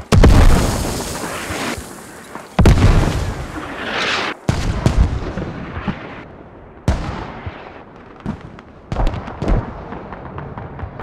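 Mortar rounds land in the shooter game Squad, a series of heavy booming impacts spread over several seconds, the first loud and rumbling, later blasts shorter and slightly farther off with fading echoes.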